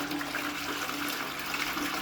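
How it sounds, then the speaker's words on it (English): A toilet flushing after a drain unblocking job, a steady rush of water pouring through the bowl and pipe, close and continuous for the whole stretch with no talk over it. "Get plenty of water down all these toilets."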